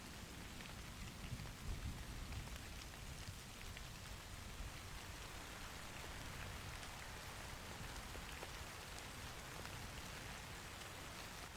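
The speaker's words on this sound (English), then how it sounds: "Liking the rain, though." Rain pours steadily in a video game demo, a dense even hiss of drops on surfaces with a low rumble underneath, faint and unbroken with no voices.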